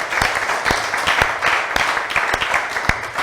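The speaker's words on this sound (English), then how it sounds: "we should give David another round of applause" Audience applause at a tech showcase event, dense steady clapping from a roomful of people with a few sharp louder claps standing out, sustained without a break.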